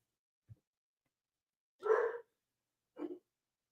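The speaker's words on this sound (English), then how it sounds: "a dog going ape shit." A dog, set off by the doorbell, gives two short barks with a brief pause between them, preceded by a faint low thump, all against near silence indoors.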